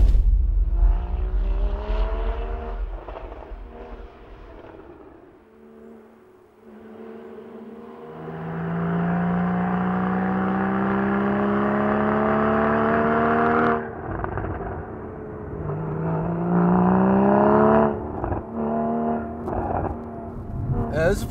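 A 2015 Porsche Cayman GTS runs a figure-eight test, its engine close and loud as it repeatedly climbs in pitch under acceleration, eases off, then surges again through the loop.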